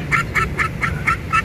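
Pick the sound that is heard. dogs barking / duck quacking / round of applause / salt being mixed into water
duck quacking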